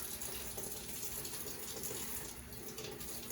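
Tap water runs over a dental handpiece held face down in a sterile processing sink, a steady soft splashing rinse heard alone.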